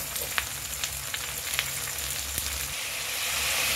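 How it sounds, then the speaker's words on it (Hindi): Masala for a village-style fish curry fries in a pan, giving a steady close sizzle with scattered small pops and crackles throughout. "अब हम लोग इसे भूनने के लिए छोड़ देंगे"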